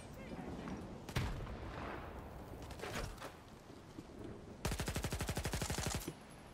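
Automatic gunfire in Stalker 2 aimed at a fence: a single sharp shot, a few scattered reports, then a fast loud burst of rapid rounds lasting over a second, all over a low game ambience.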